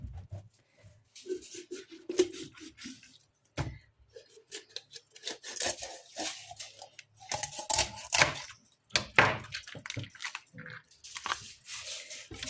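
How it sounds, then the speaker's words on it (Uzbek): A knife works through washed raw chicken, cutting it into small pieces on a board, with irregular bursts of close cutting, scraping and tapping separated by short pauses. "Oldindan yuvib tozalab olingan tovuqimizni mayda bo'laklarga bo'lib olamiz."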